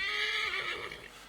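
A horse in the video game Assassin's Creed III gives a loud, close whinny with a wavering, falling pitch that fades out after about a second.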